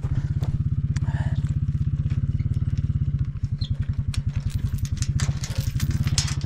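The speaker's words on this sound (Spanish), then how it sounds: "Esta moto me queda súper alta." A motorcycle engine runs steadily, its rapid, even thumping pulse loud and close, with clattering and crackling on rural hill tracks in Jalisco, Mexico.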